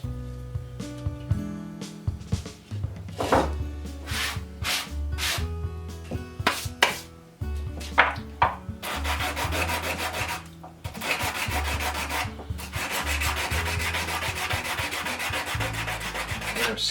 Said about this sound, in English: I'm sanding with the grain whenever possible